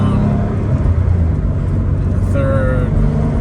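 A 1998 Porsche 911 C2 Cabriolet engine while being driven at an easy pace around town, a steady low drone with road rumble heard from inside the car, while someone talks over it.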